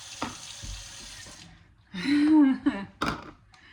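Tap water pours into a measuring cup in a brief steady hiss that stops, then a louder gushing run, with a person speaking over it near the end.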